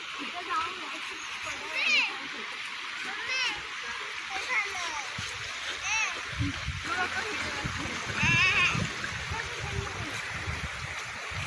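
Water splashing and flowing close by in the Gautami river, with children's voices and shouts mixed over the running water.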